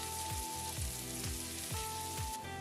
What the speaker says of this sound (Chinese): 接着呢，加入我们的蒜，继续爆香这里呢，同时也是打开中火，慢慢炒就可以的啦